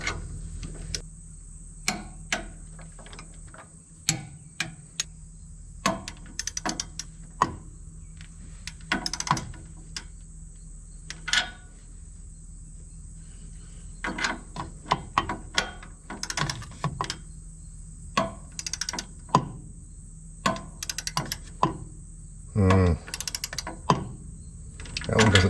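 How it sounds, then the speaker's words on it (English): Ratchet wrench torquing down bolts on the turbocharger of a Case 170B excavator with a Deutz diesel, giving uneven clusters of sharp mechanical clicks with pauses between strokes, close by against a steady background hum. "I'm going to go ahead and torque it down."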